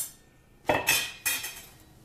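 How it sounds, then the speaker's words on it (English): Cast iron frying pan handled in a home kitchen, giving three quick metallic clanks and scrapes close by, separated by short pauses, with no talking. "It's a cast iron frying pan"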